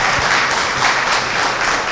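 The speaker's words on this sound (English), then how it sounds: "Will you give this great panel a round of applause" A festival audience gives a panel a loud round of applause, thick and continuous clapping filling the room without a break.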